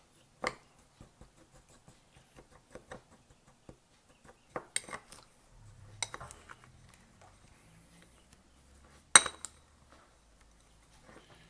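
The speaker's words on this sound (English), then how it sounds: "this is just a mixture of brown sugar and kosher salt, and it's about 2 to 1, 2 being the brown sugar. And I'm just going to mix this up really good" Brown sugar and kosher salt mixed in a bowl: sparse, faint scrapes and light clinks of a utensil against the bowl, with a few sharper taps, in a quiet room.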